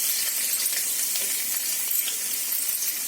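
Chopped ginger sizzles steadily in hot cooking oil on a tawa, a continuous bright crackle with scattered pops, close and fairly quiet, with no voices.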